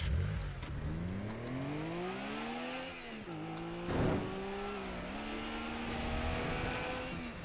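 A sports car engine in a video game accelerating through gear shifts, with rising revving pitch that drops at each shift, loud and close, with a brief crash-like burst midway and no talk.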